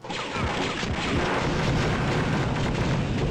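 A grenade explodes in Star Wars: Dark Forces Remaster, a loud sustained blast that fills the whole moment with dense, crackling roar and no pause.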